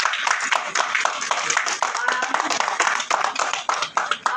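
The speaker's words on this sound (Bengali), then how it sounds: "সুটের জন্য আরেকটা বড় হাততালি হোক" An audience claps for a luxury hotel near the Kolkata airport, a lively run of fairly close hand claps with voices mixed in.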